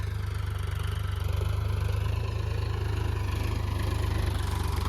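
A diesel tractor engine runs steadily at a low rumble in a field, a continuous idling throb with no talk.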